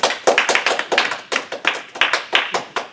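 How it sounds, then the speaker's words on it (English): A small audience at a book festival poetry reading claps, with a few distinct, close hand claps in a sparse, uneven rhythm, each clap sharp and separate. "So please, a little round of applause."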